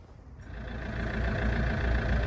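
A Vauxhall Astra J engine runs steadily after starting from cold, a continuous low rumble that builds slightly in the first second and then holds at a near, even idle with no talk.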